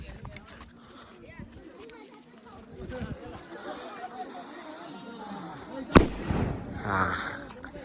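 At a Ganpati immersion procession, background crowd chatter gives way to one sharp, loud firecracker bomb burst, followed by lingering noise and voices.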